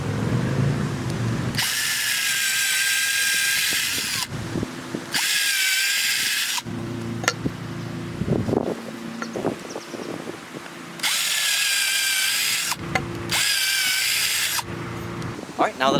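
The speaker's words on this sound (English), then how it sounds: "now that I've got my pilot holes drilled" Power drill boring pilot holes into a wooden gate post for hinge pins, in several high whining bursts separated by pauses, with clicks and handling noises between runs.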